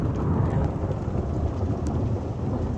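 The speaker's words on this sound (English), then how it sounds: "That's the thunder" Rumbling thunder rolls on through a storm, with steady rain hitting surfaces all the way through as a cyclone approaches in South Australia, loud and dense with no pauses.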